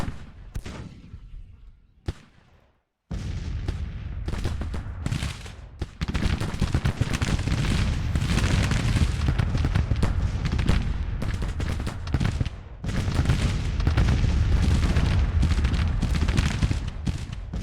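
Civil War artillery and musket fire in the strategy game Grand Tactician: The Civil War, a brief faint stretch, a moment of silence, then sustained loud volleys and cannon booms rolling on with little pause.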